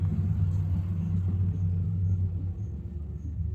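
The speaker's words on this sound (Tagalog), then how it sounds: "Iagi anak, pero nindot og tingog ang truck anak" A truck's engine gives a steady, deep rumbling drone at close range, holding an even loudness throughout with no voices over it.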